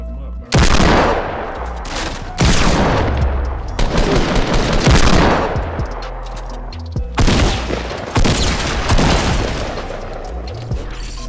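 Rapid bursts of gunfire in the Fortnite battle royale game, loud repeated volleys of shots and booms in several separate clusters, with brief pauses between them.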